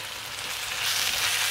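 Shrimp fry in a hot pan with noodles and black mushrooms while being stirred, a steady close sizzle that brightens and grows louder partway through.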